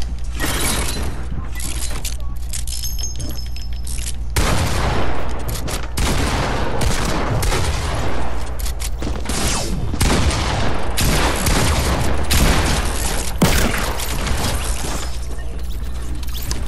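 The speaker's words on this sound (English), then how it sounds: "I was shooting at someone else." Fortnite gameplay gunfire, rapid bursts and volleys of shots with loud cracks and booms layered over a dense, continuous game soundscape for the whole stretch.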